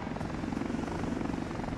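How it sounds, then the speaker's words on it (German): A helicopter in the city-building game Workers & Resources hauls gravel, its steady rotor chop droning loud and close throughout without a break. "Das Gute ist, die Hubschrauber, die bringen schon überall den Kies hin."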